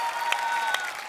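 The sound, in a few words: audience applause for Sidhu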